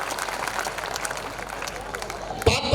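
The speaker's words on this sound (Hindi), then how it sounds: "अगर सुनना चाहते तो एक बार जोर से तालियां बजाओ।" An audience at a Hindi poetry recitation applauds, a dense steady wash of clapping filling the room, with a brief louder burst near the end.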